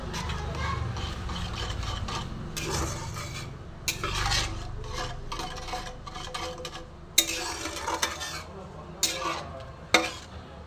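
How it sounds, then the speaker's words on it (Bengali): A spoon scrapes and stirs through moong dal cooked with shiuli leaves, jackfruit seeds, salt, sugar and spices in a pot, a steady close rubbing and clinking with a few sharp knocks against the metal and a faint sizzle beneath. "এবার আমি একসঙ্গে সব মিশিয়ে নেব।"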